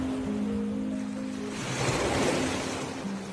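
Ocean waves wash steadily onto a beach backed by cliffs, a continuous broad surf roar swelling slightly midway, heard alone without voices.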